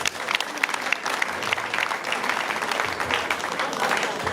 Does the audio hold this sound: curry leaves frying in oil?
no